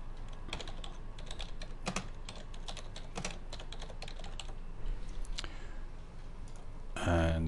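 Someone types on a computer keyboard in a steady run of close, light key clicks, with a soft voice near the end.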